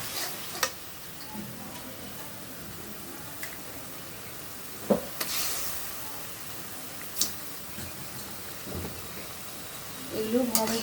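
Ginger-garlic paste and spices sautéing in a pan for a tangy spicy fish curry, a low steady sizzle with occasional sharp spatula knocks and scrapes, close by, with brief talk in places.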